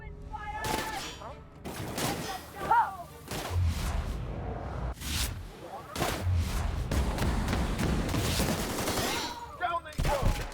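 Bursts of gunfire in The Outer Worlds sci-fi shooter game, several sharp volleys and rapid shots scattered over ten seconds with crashes and brief shouted voices between them.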